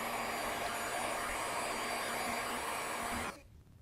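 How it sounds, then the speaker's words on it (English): A heat gun runs as a steady, loud broadband blow while heating a low-heat solder butt connector over a wire splice, then cuts off abruptly near the end, leaving quiet room tone. "And now we need to apply some heat."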